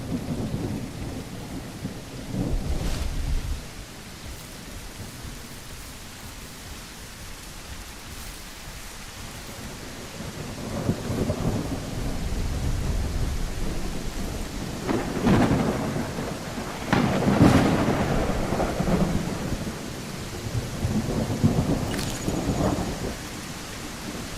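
Steady rain pours down in the survival video game Rex while thunder rumbles and cracks several times, loud rolling booms rising over the constant hiss of rainfall, with no voices.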